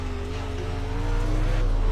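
Pro Late Model race car in the iRacing simulator working through the middle of a corner: a steady, loud engine drone with a slowly rising pitch and a hint of tire squeal, growing slightly louder toward the end, no talking.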